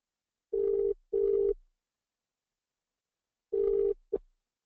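A telephone rings on a recorded phone call, two short ring bursts, a pause, then another ring that is cut off, clear and close with no talk.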